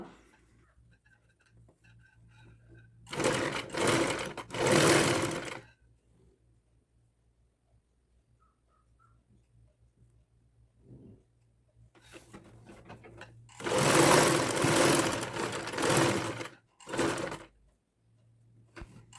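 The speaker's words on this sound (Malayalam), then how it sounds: "അതുകൊണ്ടാണ് ഞാനിവിടെ ക്രോസ് പീസ് എടുത്ത് സ്റ്റിച്ച് ചെയ്യുന്നത്" A sewing machine stitches a cross piece onto a neckline in two loud runs of rapid whirring, separated by a quiet pause with faint handling noises.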